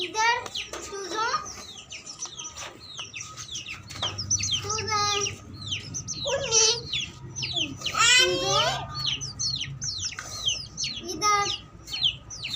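Chickens and chicks cluck and cheep continuously, with overlapping bright chirps and throaty clucks close by, while a voice is heard talking among them.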